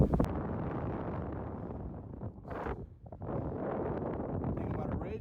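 Strong wind buffets the microphone on an exposed mountain ridge near Canmore in winter, a loud continuous roar with gusts and a brief lull, no talk heard.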